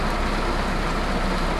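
Heavy rain pours down steadily in a forest, a dense, close and unbroken hiss with no voices.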